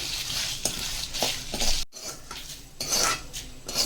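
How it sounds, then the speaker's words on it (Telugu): Coriander seeds and cumin roasting in a pan with dry red chillies, stirred with a metal utensil in repeated scraping strokes, faint sizzle and clinks of metal against the pan, close and steady with no talk. "అదే ధనియాల జీలకర్ర వేగాయండి."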